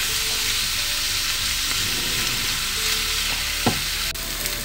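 Ground meat browns with garlic in a pan over medium heat, giving a dense, even sizzle up close and a couple of faint knocks from the utensil.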